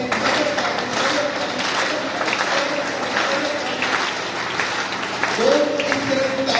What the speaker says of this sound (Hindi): बजा ताली, बजा ताली, बजा ताली